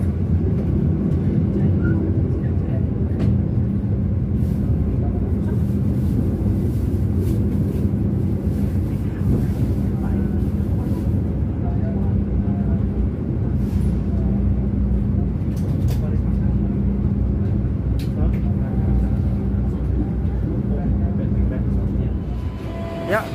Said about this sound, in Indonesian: kereta api Lodaya saat ini telah tiba di stasiun Kroya